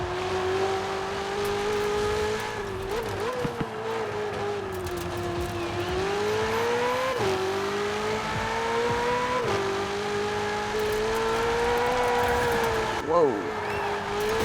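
A Ferrari race car lapping in Forza Horizon 4, its engine holding a steady high whine that rises and dips with gear changes and corners, with a brief tire squeal late on and talk over it.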